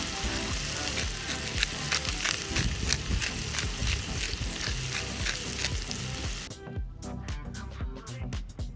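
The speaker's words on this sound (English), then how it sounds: "Listen to that sizzle." Aged sirloin steak sizzles loudly in a hot pan, a close, dense crackle and hiss, with a brief scraping stir near the end.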